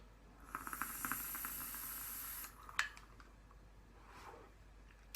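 Long exhale of e-cigarette vapour from a DIY Harlequin candy e-liquid at 3 mg nicotine, 50/50 mix: a steady breathy hiss lasting about two seconds, close and moderately loud, followed by a faint click and quiet room sound.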